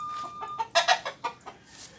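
Chickens cluck close by in a short, quick series of a few bright clucks with small gaps between them, with no other sounds over them.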